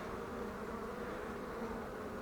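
A dense, steady buzzing hum of many honeybees in an open beehive fills the space, continuous and close, without pauses or voices.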